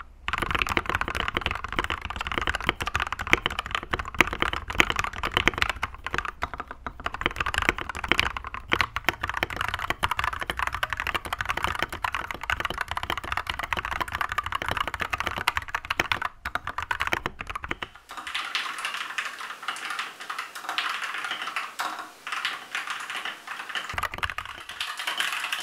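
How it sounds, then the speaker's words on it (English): Rapid, continuous typing on a GamaKay LK67 keyboard with lubed Gateron Yellow switches and ACO ASA profile double-shot keycaps gives close, even, muted clacks, then a brief pause before the keystrokes resume. "GamaKay LK67 ACO ASA Profile Double Shot Keycaps, Gateron Yellows, lubed with Krytox 25 grade 0 sound test."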